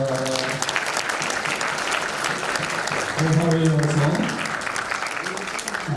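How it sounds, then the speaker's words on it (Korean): A church congregation applauds at a Korean Christian council inauguration and New Year gathering, with steady clapping beneath someone speaking over it in Korean, the applause continuing throughout. "박수하겠습니다."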